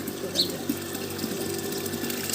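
Water runs from a tap in a village home, a steady close rushing hiss that continues without a break.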